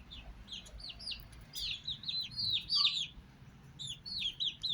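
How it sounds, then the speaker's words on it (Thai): Several chickens cluck and chirp in short, scattered bursts nearby, with quiet background noise between calls. "ไก่ที่เลี้ยงไว้ให้พี่น้องเฮาได้เบิ่งได้ชมกันครับ"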